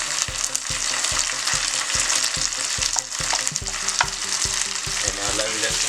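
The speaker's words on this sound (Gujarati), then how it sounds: "હવે એની અંદર આપણે આદુની પેસ્ટ છે એ નાખી દઈશું" Ginger-chili paste frying in a pan with browned onion and garlic for a pigeon pea and eggplant curry, sizzling steadily while a spoon scrapes and stirs in a quick, regular rhythm, close and fairly loud with no voices.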